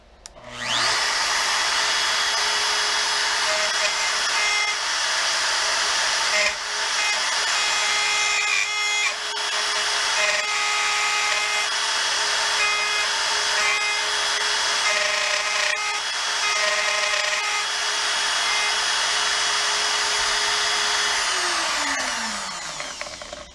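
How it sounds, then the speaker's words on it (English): A power drill bores a half-inch hole using a 3D-printed jig: a loud, steady, high whine runs continuously for about twenty seconds, then winds down as the motor stops. "I don't think you'd be able to hear me over the sound of that guy, but that was us breaking through that 1/2-inch hole wall"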